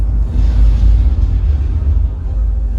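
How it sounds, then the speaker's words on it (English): Thunder wave spell effect in the Dungeons & Dragons: Secrets of Waterdeep game, heard as a loud, heavy low rumble that swells and rolls on steadily for about three seconds without a break. "It's time for a thunder wave!"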